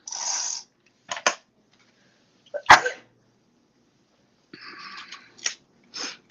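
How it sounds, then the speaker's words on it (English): A single loud sneeze bursts out near the middle, short and sharp, in a quiet room during paper card-making with plaid patterned paper, set among faint rustling and crafting noises. "And I'm going to sneeze."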